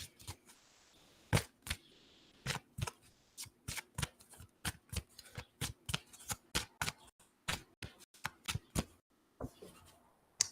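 Tarot-style cards are drawn and laid down for a reading, producing a steady series of crisp, close snaps and flicks at irregular short intervals, with a brief soft shuffle near the end and no talking.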